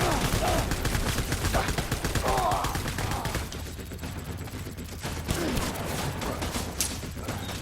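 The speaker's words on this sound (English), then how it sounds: "Where are they shooting at me from?" Gunfire in Death Stranding crackles in repeated bursts of rapid shots, dense at first and then thinning, fairly close and loud, with brief voices and game sounds mixed in.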